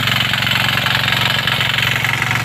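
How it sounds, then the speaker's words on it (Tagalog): Irrigation water pump motor running steadily at a deep well on a lakatan banana farm, a loud, continuous mid-pitched engine drone with a rhythmic knocking pulse, close by and alone. "mayroon po yung motor dito"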